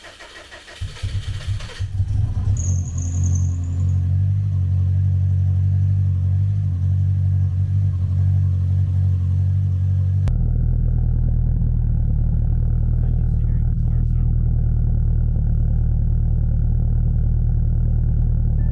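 A long-rod Subaru wagon engine running a Link standalone ECU cranks briefly and fires up, then settles into a loud, steady, rumbling idle that continues close and alone.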